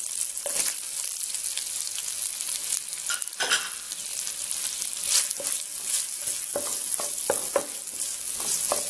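Finely chopped onions stir-fry in a pan for chicken noodles: a bright, continuous sizzle with frequent sharp scraping clicks from a spatula, close and fairly loud, with no one speaking.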